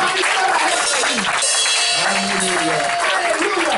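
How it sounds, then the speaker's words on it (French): An audience applauds and cheers for Jesus at a worship gathering, steady dense clapping with crowd voices and a speaker's voice over it throughout. "Est-ce qu'on peut acclamer pour lui?"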